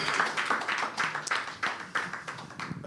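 A conference audience at an LNG facts-and-figures presentation gives a round of applause, a moderate burst of many hands clapping in quick, uneven pulses, fairly close, with faint voices mixed in.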